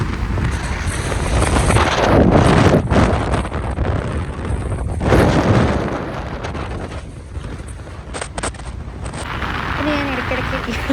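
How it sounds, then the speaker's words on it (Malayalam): Wind roars steadily past the open sunroof of a moving car on a road trip, a broad rushing noise with gusty swells, with voices talking over it at times. "നല്ല കാറ്റ്, നല്ല വൈബായിരുന്നു."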